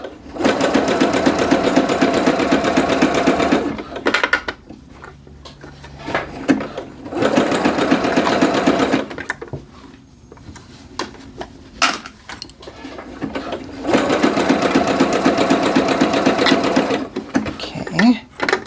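Sewing machine stitching joggers made from the Vogue 8909 pattern, three long loud runs of rapid whirring stitching separated by pauses with handling clatter and brief short bursts, with a person talking in between.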